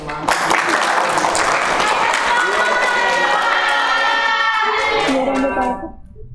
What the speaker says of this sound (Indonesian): Kita kasih tepuk tangan buat Raya biar semangat.